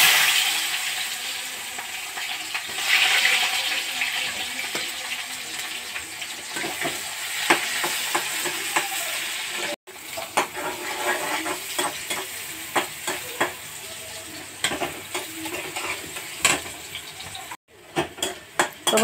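Chopped onions frying in a pan after dried shrimp, a steady close sizzle broken by frequent sharp clinks and scrapes of a utensil stirring against the metal, with a brief cutoff near the end.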